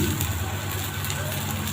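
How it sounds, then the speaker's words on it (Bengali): Chopped onions frying in hot oil in a cooking pot, the start of a bean bhaji, give a steady, close crackling sizzle that holds evenly throughout. "এখন পেঁয়াজ দিয়ে দিব, পেঁয়াজ কুচি দিয়ে দিব"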